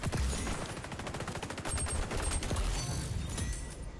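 Rapid gunfire from a PP19 submachine gun in the shooter game XDefiant: tight, evenly spaced automatic bursts, loud and close, broken by short pauses between strings of shots.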